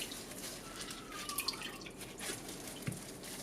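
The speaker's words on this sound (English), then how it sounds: "I'm now going to use the lemon to wash the fish." Fish being washed with lemon and water for Nigerian-style fish and chips: soft, steady trickling and dripping of water close by, with a few brief splashes, quiet and without speech.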